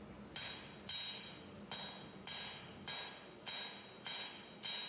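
A hammer strikes hot metal on an anvil while a small leaf charm is forged, about eight evenly paced ringing blows, each with a bright metallic chime that fades before the next.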